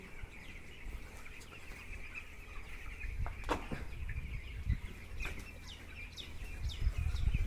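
Chickens in a poultry farm shed cluck and cackle faintly at a moderate distance, with scattered calls over a low rumble of background noise.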